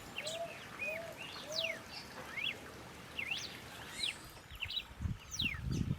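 Several birds call at a fruit feeder in the Caatinga scrub, with clear whistled and rising chirps repeating over a steady wash of background song, plus a few low knocks near the end.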